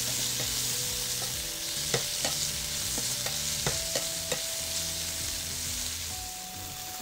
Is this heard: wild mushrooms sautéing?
yes